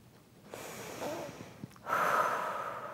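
A slow, deep breath drawn in through the nose and then released as a long, steady exhale, shown as a calming breathing technique; close and clear, with no talking.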